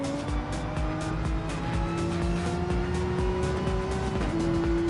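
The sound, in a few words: Porsche race car engine and tyres in a racing video game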